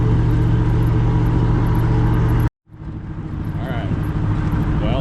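Tractor driving fast toward a corner, a loud steady engine roar with a brief cut-out midway before the rumble returns and builds, close and dominant.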